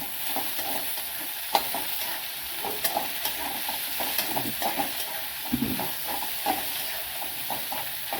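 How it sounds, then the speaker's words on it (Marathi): Capsicum sautéing in a pan with garlic, ginger and onion for street-style veg noodles: a steady sizzle with repeated scraping stir strokes, close and fairly loud, no voices. "त्यामध्ये ढोबळी टाकू दोन मिनिट ढोबळी परतून घेऊ"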